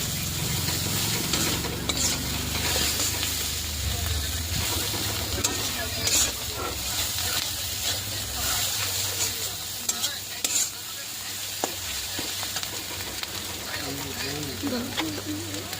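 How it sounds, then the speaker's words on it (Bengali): A spoon stirs cumin powder and spice mix frying in a pan, giving a continuous close sizzle and hiss with scraping strokes, while a voice talks faintly in the background. "দু চামচ দেবে জিরের গুঁড়ি মশলাটা ভালো করে নাড়াবে"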